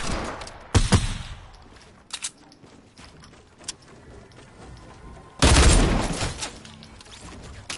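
Shotgun blasts in Fortnite: two heavy, close bursts several seconds apart, punctuating quieter clicks, creaks and footstep-like game sounds.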